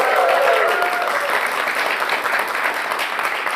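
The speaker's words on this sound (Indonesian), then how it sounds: "Boleh tepuk tangan buat BHS teman-teman." Studio audience applause at a televised Indonesian democracy talk show, a broad continuous clapping from many people, loud at first and easing slightly, with a faint tonal line early on.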